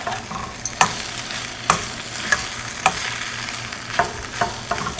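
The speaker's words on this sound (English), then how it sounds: "you're going to add a good tablespoon of tomato paste. Mix it around." Tomato paste stirred into onions frying in a pan for vegan arancini: a steady close sizzle with a spoon scraping through it in repeated sharp strokes, about one every half second to a second, no talking.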